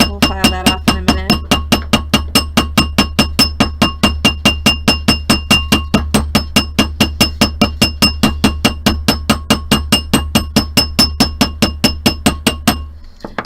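A hammer strikes a metal ring on a mandrel in a steady run of about sixty sharp, ringing metallic taps, loud and close, ending abruptly.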